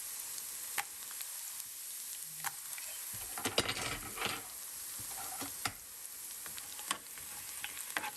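Garlic, green chilies and whole red chilies sizzle and crackle in hot oil, a constant frying hiss broken by sharp pops and an occasional stirring scrape, close up with no talking.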